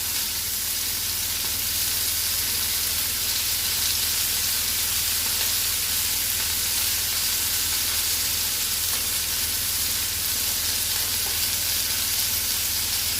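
Garlic and butter sizzle in a pan with steak, a loud, dense, unbroken frying hiss that holds steady the whole time, with no voices.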